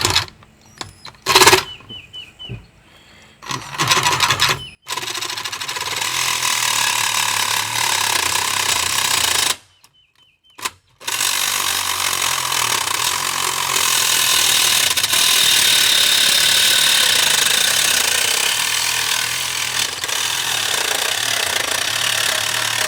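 A reciprocating saw with a stainless-steel blade cutting stainless steel cable-railing posts on a new deck, a loud, harsh, buzzing grind that runs in long steady stretches after a few short stop-start bursts, with one brief pause.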